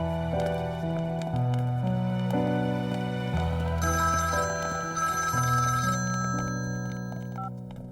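A telephone ringtone plays continuously, a melodic electronic tune with shifting tones over a steady background, no voices.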